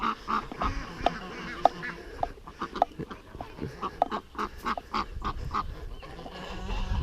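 Poultry keeper's ducks and geese quack and honk repeatedly in a busy, noisy chorus, close by and layered over continuous rustling and background farmyard noise, with no talk.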